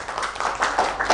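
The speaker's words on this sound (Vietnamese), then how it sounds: "Một tràng vỗ tay những người không thấy." A seated audience at a Saturday café talk gives a short burst of applause, a dense wash of claps that is loud and close and lasts only about a second.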